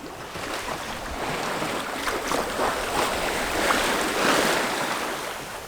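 Wind and waves wash steadily around a sailing boat at sea in light air of about 10 knots, a constant broad rush of water and breeze with gentle swells and no voices.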